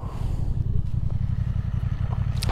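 A Honda Transalp 750 motorcycle engine idles steadily and close by on a Tenerife roadside, a continuous low throbbing rumble with faint clatter over it, no talking.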